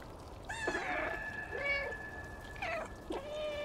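A cat meows in the video game Stray, several short close meows in a row with brief pauses between them over a quiet background hiss.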